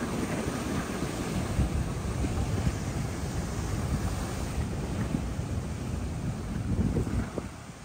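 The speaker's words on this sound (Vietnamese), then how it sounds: "Hôm nay sóng mạnh quá." Strong wind buffets the microphone over rough sea waves breaking on the Hawaii coast, a loud continuous roar of surf and gusts with no talk.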